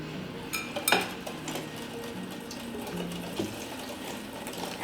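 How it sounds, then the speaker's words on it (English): A whisk clinks against a bowl as orange juice is poured into an egg mixture for orange curd, light irregular metallic taps and scraping with faint liquid sounds, close and quiet. "you're going to want to add it slowly and whisk it while you're pouring it in"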